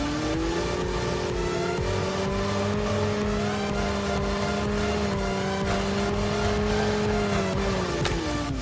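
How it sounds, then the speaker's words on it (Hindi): Motorbike ride in Call of Duty Mobile battle royale: a continuous engine drone with a steady pitch that drifts gently and dips near the end, loud and unbroken throughout with no talking. "दोबारा से मैंने अपनी बाइक उठाई और मैं आगे बढ़ने के लिए चल दिया।"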